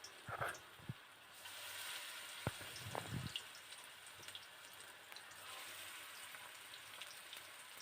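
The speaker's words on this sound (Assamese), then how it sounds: "এইফালে তেল গৰম হৈছে আৰু মই তাতে বৰাকেইটা দি দিওঁ" Banana flower fritters frying in hot oil give a soft, steady sizzle with scattered pops and a few brief clinks near the start, faint and distant, with no voices.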